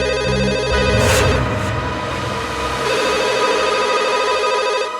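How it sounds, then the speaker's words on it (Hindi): A telephone rings at night, a loud electronic ring with repeated bursts over about five seconds, close by and heard alone without talk. "इतनी रात को कौन फोन कर रहा है?"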